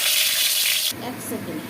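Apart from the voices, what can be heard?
potatoes frying in oil for cooking skate fish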